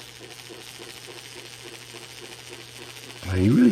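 HO scale boxcab model locomotive with an open frame motor crawling at slow speed, giving a steady low hum with a faint rhythmic mechanical patter, close and quiet, before a louder sound cuts in at the end.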